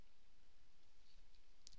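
A computer mouse gives a couple of faint, sharp clicks in a quiet room, close by and with no voices.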